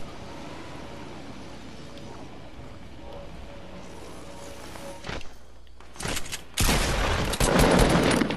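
Gunfire in the Fortnite video game: a steady background hum gives way to a short burst and then sustained, loud volleys of rapid shots filling the final few seconds.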